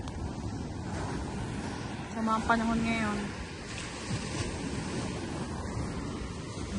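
Sea waves wash near the shore in a steady, rushing roar, with wind buffeting the microphone and a voice speaking briefly over the surf.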